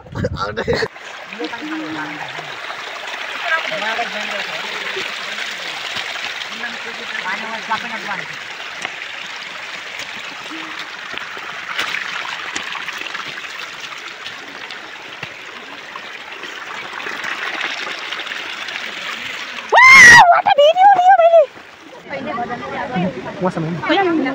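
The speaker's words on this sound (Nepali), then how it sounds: "हाम्रो झरना यस्तै छ" Water rushes steadily at the Namaste waterfall in Dharan, a broad continuous roar heard up close, with a brief loud burst and a few faint voices near the end.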